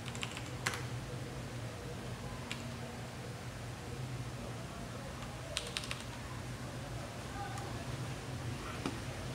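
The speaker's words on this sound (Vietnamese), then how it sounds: "Bây giờ mình sẽ thử gõ để xem tiếng kêu nó như thế nào." Steady clacking of keystrokes on an IKBC E401 mechanical keyboard fitted with Cherry Brown switches, close and continuous, with a few sharper, louder clicks standing out over a low background hum.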